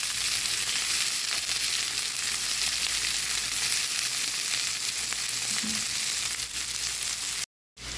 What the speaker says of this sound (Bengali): কাঁচামরিচ রসুন এবং পেঁয়াজ ভালো করে ভেজে নেব